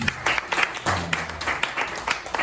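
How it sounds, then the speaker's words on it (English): An audience at a community healing event in East Flatbush claps in a steady, dense round of applause. The clapping is fairly close and holds for a couple of seconds with no voices over it. "give yourselves a round of applause, please"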